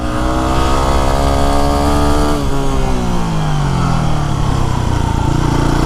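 Yamaha WR250R supermoto motorcycle climbing a mountain road, its engine loud and close, revving up through rising pitch then dropping as it shifts and pulls on steadily.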